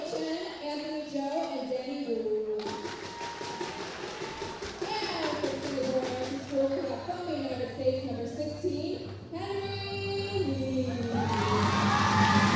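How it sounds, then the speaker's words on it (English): A crowd at a boys' volleyball final between TAS and SAS roars and shouts steadily, swelling louder toward the end, with voices talking over the din throughout. "Listen to the sound of that crowd."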